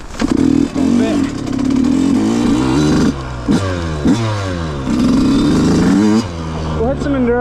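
A rebuilt Yamaha YZ125 two-stroke dirt bike revs loudly and up close, its pitch repeatedly climbing and dropping in quick blips. Between revs the engine clatters, a voice talks briefly over it, and short gaps come where the throttle closes.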